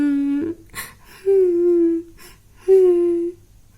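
A woman crying in drawn-out, wavering wails, three long sobbing cries separated by short gasping breaths, close and alone with no other voices.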